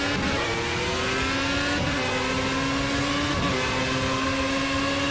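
A loud race car engine in the video game Project CARS revs and shifts through gears continuously, a buzzing high-pitched whine rising and dropping, with no voices.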